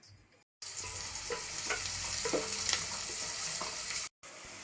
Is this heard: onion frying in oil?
yes